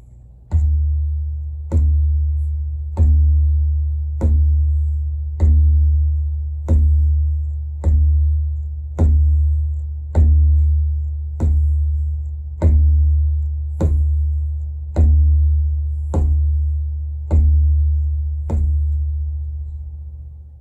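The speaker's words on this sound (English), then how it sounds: "That full open sound is what you are trying to achieve when you're playing the baya." Open ge strokes on a tabla bayan, the bass drum of the pair, sounding as about fourteen evenly spaced deep booming hits, each ringing with a full low resonance that decays before the next, played alone and close.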